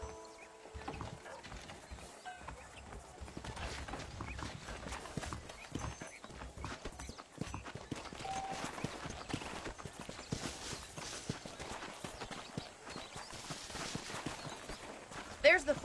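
Rhythmic horse hoofbeats in Red Dead Redemption clip-clop steadily at a walking pace throughout, fairly quiet, with a voice talking over them at times.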